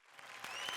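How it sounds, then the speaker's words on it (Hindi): Audience applause greets the performers on the stage of a TV comedy show, a short burst of clapping that swells steadily in loudness, with no talk over it. "जोरदार तालियों से स्वागत कीजिए"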